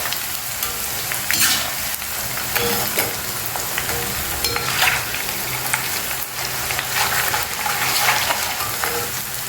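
Shallots and tempering spices sizzle and crackle in hot oil for a red chilli chutney, a loud close frying hiss with bursts of popping and occasional stirring scrapes, no talking.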